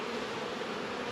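Honeybees in a hive holding a swarm cell give off a continuous, even buzzing hum, close and fairly quiet, with no voices over it.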